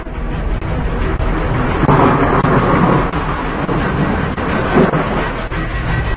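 Thunder from a thunderstorm, a deep, loud rumble that swells and rolls over several seconds above a continuous hiss of rain.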